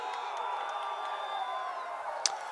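A crowd at a BYU men's lacrosse game in Provo, Utah, gives a steady distant roar of cheering with a few whistles and whoops rising above it.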